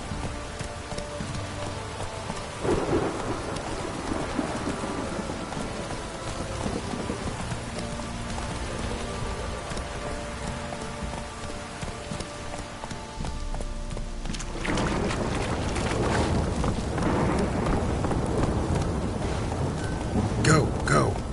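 Steady rain pours through a scene in the video game The Witcher 3, with rumbling thunder and a louder downpour building partway through, under occasional background activity.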